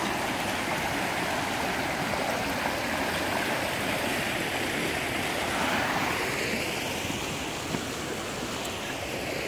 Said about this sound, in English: this is normally like a 6-inch to a 2-foot creek. That's probably at 2 to 4 foot now